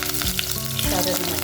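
Sliced onion hitting a very hot pan, a loud, dense sizzle with stirring scrapes over a short burst, close up and without voices.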